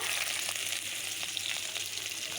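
Onions with green and red chillies frying in hot oil, a steady close sizzle with faint crackles and light scraping, no voices.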